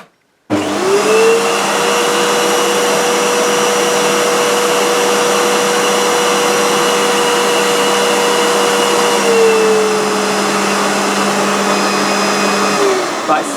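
A Hoover U3456 Purepower vacuum cleaner motor whirs steadily at close range with a constant high whine, running for the full length without talk, then cutting off at the end.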